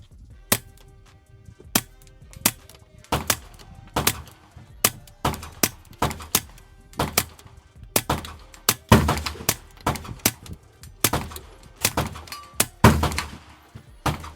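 Suppressed .22 rifle firing Aguila ammunition, a steady series of about twenty sharp, close, muffled thunks spaced roughly half a second to a second apart.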